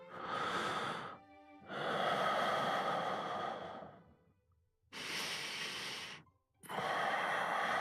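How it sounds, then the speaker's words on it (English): Steady breathing close beside the player in Love and Deepspace: four long, airy breaths with brief pauses between them, near and intimate. "The sound of steady breathing was next to me"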